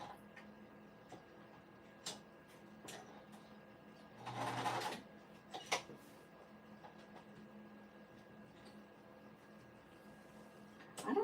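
A sewing machine top stitching a pet bandana runs in a quiet room, with a short burst of rapid stitching in the middle and scattered clicks of the machine and fabric around it.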